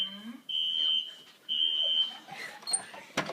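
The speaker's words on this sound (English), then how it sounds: "And the fire alarm's going off." An apartment fire alarm sounds two long, loud, piercing electronic tones close by at night, followed by shorter chirps and a sharp knock.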